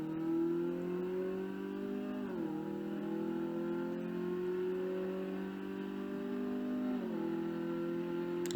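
Car engine in the Car Mechanic Simulator video game, a steady droning hum that climbs through gear shifts, with two noticeable dips in pitch, heard alone and fairly quiet.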